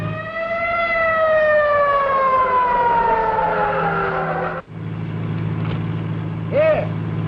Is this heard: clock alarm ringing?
no